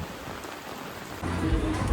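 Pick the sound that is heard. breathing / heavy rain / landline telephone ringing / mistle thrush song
heavy rain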